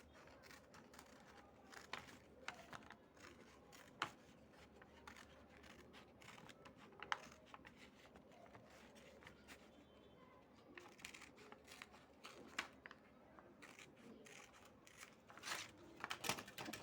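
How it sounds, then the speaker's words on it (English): Scissors cutting an opening in paper for a handmade paper cup, heard as faint, scattered snips and rustling paper handling close by at low level, with no talking. "Then I'm going to cut this opening. Just use your scissors."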